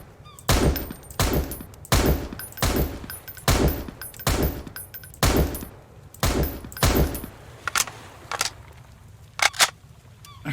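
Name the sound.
rifle gunfire in Sunkenland video game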